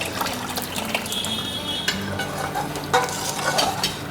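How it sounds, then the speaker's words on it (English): Tamarind pulp added to a frying masala for a murrel fish curry and stirred in; a steady sizzle runs under repeated close scraping and wet stirring strokes. "I'm going to add this tamarind pulp into the masala"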